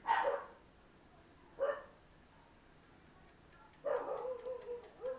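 Dogs bark in a few sharp bursts indoors, two brief single barks followed by a longer flurry, fairly close and alone without speech.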